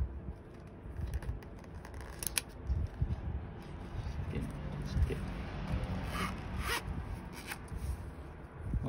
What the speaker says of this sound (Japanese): ファスナーをこうめくって出し入れしていただければ